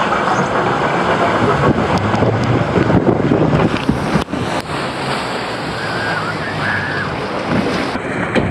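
A theme park boat ride surges through the water with steady rushing and splashing, mixed with loud wind buffeting the microphone and a brief knock midway.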